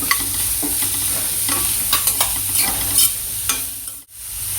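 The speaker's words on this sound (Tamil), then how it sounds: "வெங்காயமும் பூண்டும் ஸ்லோவாக வச்சு நம்ம வதக்கிக்கிறோம்" Onion, garlic and finely chopped carrot, beans and cauliflower sauté in a pan for momo filling, giving a steady close sizzle with repeated scraping stirs and clicks of a spoon against the pan.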